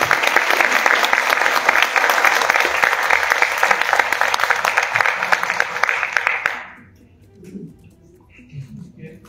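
A live audience bursts into loud, sustained applause welcoming guests at a community gathering in Xochimilco, clapping steadily for several seconds before it cuts off abruptly, followed by quiet room noise and faint handling sounds.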